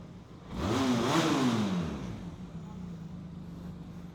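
A motorcycle engine revs up once with a rising then falling roar, close by, before settling back to a rough idle.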